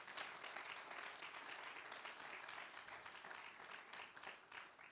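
A church congregation claps together in steady, sustained applause, loud and continuous throughout with no talk over it.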